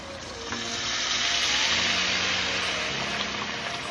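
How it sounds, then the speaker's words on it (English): A cup of water poured into a pot of Jamaican curry shrimp with pumpkin, giving a steady close hissing, sizzling splash that swells briefly and settles, with no talk. "I am adding a cup of water"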